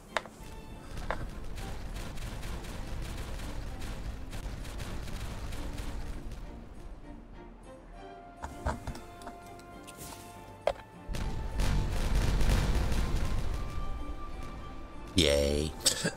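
Explosions blowing up terrain in the Timberborn video game: a dense run of rapid cracks and thuds rattles on, then a louder rumbling burst swells near the end, with a voice talking over parts of it.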